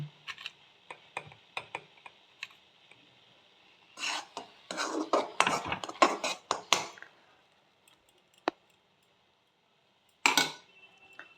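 A spoon scrapes and rasps in a bowl as amla candy is mixed with spices, in short clustered bursts with quiet pauses between, close and fairly soft.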